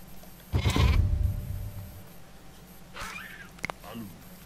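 Goats bleating in the video game Dawn of Man, one loud nasal bleat near the start followed by a fainter bleat later, with someone talking in between.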